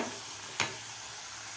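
Cauliflower frying in hot oil in a pan gives a quiet, continuous sizzling hiss, with one brief sharp scrape or clack near the middle of the short stretch.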